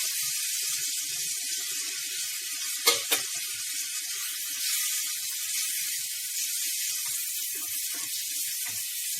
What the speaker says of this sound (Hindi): तो अब मैं इसमें बैंगन डाल दूंगी।